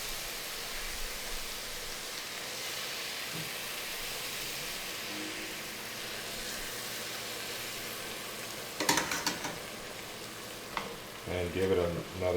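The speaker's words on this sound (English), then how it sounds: "And give it another stir." Mushroom risotto in a pan with freshly added bone broth gives a long, even hiss of simmering sizzle. Toward the end, clattering bursts of a spoon stirring through it break in.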